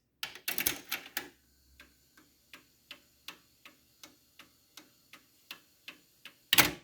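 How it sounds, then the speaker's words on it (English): A failing gear inside a Technics RS-TR311 cassette deck mechanism clicks sharply and close by in a steady series of roughly two ticks per second, after a few louder clunks at the start and before another loud burst at the end. "the little gear inside the deck is going to shit"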